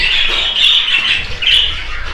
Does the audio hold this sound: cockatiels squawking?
yes